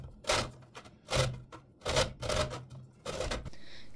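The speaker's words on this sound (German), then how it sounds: "Und zu guter Letzt kommt der Abrieb einer gewaschenen Bio-Zitrone hinein." Zest being grated from a washed organic lemon on a grater, a series of about five rhythmic rasping strokes, close and clear with quiet pauses between them.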